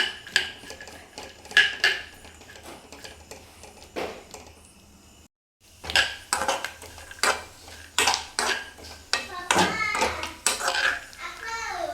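Grated coconut is stirred and fried in a pan until reddish for a masala puri snack, with repeated metallic clinks and scrapes of a utensil against the pan, a short pause midway, and voices, including a child's, nearby.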